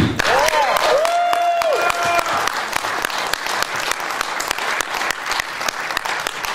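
An audience at a film festival Q&A claps steadily and warmly, a dense patter of applause that stays fairly even, with a brief whistle near the start.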